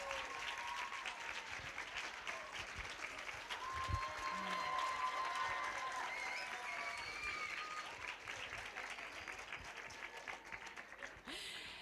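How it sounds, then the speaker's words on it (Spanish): An audience at a colloquium applauds Víctor Ullate Roche in a long, sustained round of clapping. Cheers and scattered voices rise over it, and it thins out toward the end. "vamos a llamar primero a Víctor Ullate Roche, con un gran aplauso"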